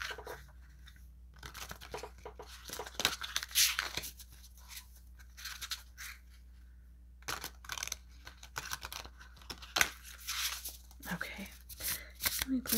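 Tarot cards being shuffled, with crisp riffling and rustling bursts that come in irregular clusters close by, and a faint voice now and then.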